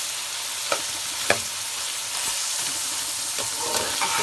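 Shimla mirch qeema, minced meat with capsicum, sizzles steadily in a pan while a spoon scrapes and stirs it, giving a few sharp clinks over a constant hiss of frying.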